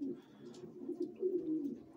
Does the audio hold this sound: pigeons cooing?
yes